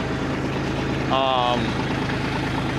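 A tractor engine idles steadily and loudly while driving a Jaylor mixer wagon, giving a continuous low rumble with a brief tonal whine partway through.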